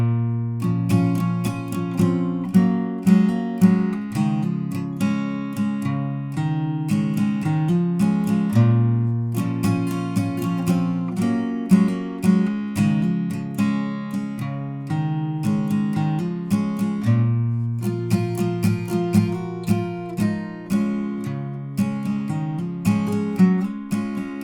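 Steady acoustic guitar strumming with ringing chords and a repeating rhythm, played alone and up close at a moderate tempo.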